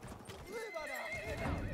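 A horse in the video game Battlefield 1 gives a short, wavering neigh over quiet hoofbeats, brief and moderately close.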